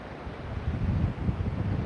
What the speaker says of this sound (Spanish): Hay una brisa rica, sabrosa.